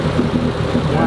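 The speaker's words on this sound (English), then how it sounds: "Great engine." A small speedboat's outboard engine runs steadily at low revs with a constant droning hum, close by, while people talk over it.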